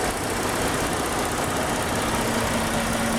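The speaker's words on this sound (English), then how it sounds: "Just listen to that engine. So smooth and quiet." A 2008 Ford Taurus SEL with 55,000 miles idles steadily, a smooth, quiet, continuous low engine hum with no talk over it.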